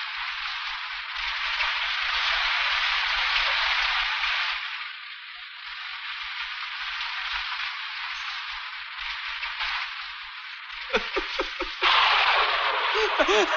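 Heavy stormy rain at night pours down as a dense, constant hiss, with a voice and faint tonal sounds rising over it near the end.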